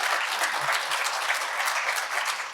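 An audience at a forum event claps steadily for a presenter named Kristen, a dense, even round of applause lasting a few seconds at moderate distance.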